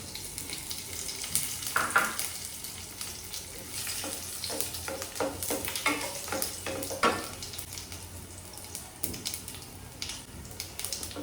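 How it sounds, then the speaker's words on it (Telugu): Cumin seeds, dried red chillies and three garlic cloves sizzle and crackle in hot tempering oil, a steady close frying hiss with scattered pops and occasional stirring scrapes, no voices. "జీలకర్ర చిట్పట్లాడాలండి"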